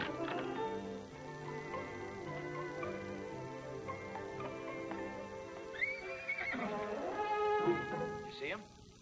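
A horse neighs loudly in a couple of shrill, quavering whinnies near the end, over steady hoof clip-clop and background murmur.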